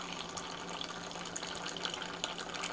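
A Keurig coffee maker dispensing hot water into a cup for hot chocolate, a steady close gushing stream with a continuous hissing flow and no talking.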